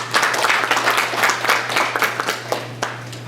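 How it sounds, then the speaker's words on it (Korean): Applause from the audience at a Korean roundtable on children's product safety certification, a dense run of overlapping claps lasting about three seconds with a steady electrical hum underneath. "다시 한번 박수 한번 보내드립니다."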